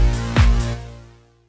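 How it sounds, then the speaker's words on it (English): Diva synthesizer bass in FL Studio plays a few deep sustained notes with a pitch drop in the middle, loud and clean, then fades out over about a second. "So here I have Diva, which is playing the bass, and this is what it sounds like right now"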